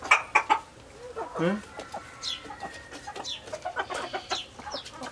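Hens and a rooster cluck close by in a loose, uneven run of calls, with one more drawn-out squawk partway through and a brief spoken interjection at the start.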